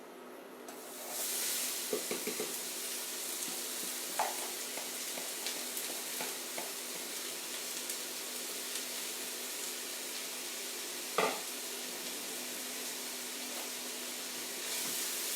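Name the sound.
finely diced onions sizzling in hot cooking oil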